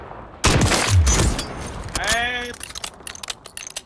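FJX Horus submachine gun firing in Warzone 3, loud rapid bursts of shots from close by, with jangling clatter and a player's voice in between.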